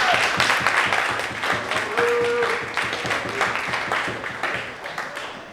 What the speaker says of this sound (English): So let's get a round of applause for Dr.